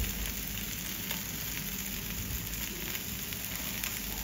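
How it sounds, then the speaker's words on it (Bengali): Ground spices, including cumin, garlic and onion paste, fry in mustard oil in a pan, giving a steady, close sizzle that runs unbroken from start to finish. "মশলা কষিয়ে নিব এখন।"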